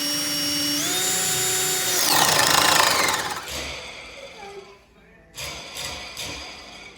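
A power drill with an oversized bit whines as its motor ramps up, then bites and grinds loudly before slowing, pausing, and spinning up again.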